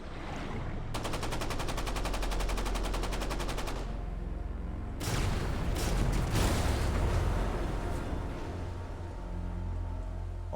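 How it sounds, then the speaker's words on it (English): A submarine torpedo salvo striking ships in a World War II documentary sound effect: a rapid, rattling volley of sharp reports, then heavy booming impacts and a sustained rumbling roar, loud and dense throughout. "All 3 torpedoes hit home."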